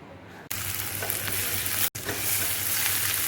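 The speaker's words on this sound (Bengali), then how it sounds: "পেঁয়াজটা ভাজা হয়ে গেছে" Onions sizzle loudly and continuously in a hot pan, with the crackle briefly cutting out once before resuming.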